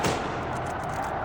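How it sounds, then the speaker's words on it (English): A single big explosion from a tank battle in the Panzer Strike video game, loud and booming with a long rumbling decay and no talking. "I heard a big explosion."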